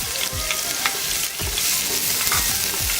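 Chopped onions frying in hot oil, a loud continuous crackling sizzle close up with repeated stirring scrapes from a spatula, no talk.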